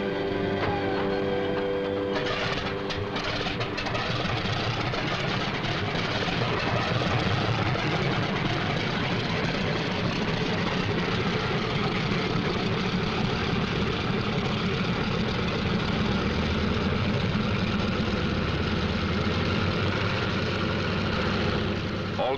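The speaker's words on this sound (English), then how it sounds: "Takeoff by twos on the quarter minute." World War II fighter planes run up their engines for takeoff in pairs, producing a loud, continuous, heavy engine roar that holds steady throughout.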